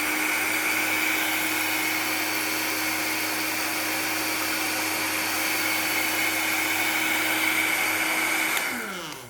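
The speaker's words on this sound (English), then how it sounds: "now we'll also switch on the dryer." A hair dryer runs in a steady loud whirring hum with a constant high whine, close by and unchanging for several seconds before cutting off abruptly at the end.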